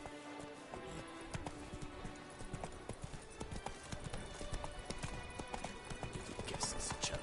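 Roach's hooves clip-clop steadily at a trot in The Witcher 3 video game, a regular hoof rhythm under game music and background sounds.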